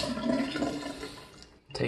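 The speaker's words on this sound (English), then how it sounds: "Let me just put that under some warm water." Water splashes and runs briefly from a tap as a razor is rinsed, with a short pause before a final gush of rinsing water.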